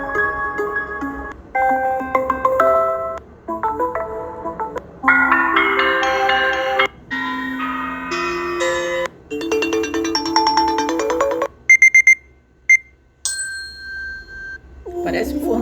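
Amazon Echo Spot alarm clock tone: a series of bright, melodic chime phrases rising and falling in clear steps, fairly loud and close, ending with a few isolated high dings and a short sustained beep.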